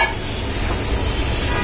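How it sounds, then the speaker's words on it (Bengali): Rice fries in hot spiced oil for a Bengali fish masala biryani, giving a close, loud, dense sizzle that holds steady for the whole moment with no talking. "সেই তেলের ভিতর আমি সেই চালটা আমি দিয়ে দিলাম। চালটা দিয়ে আমার একটু ভেজে ভেজে নিতে হবে।"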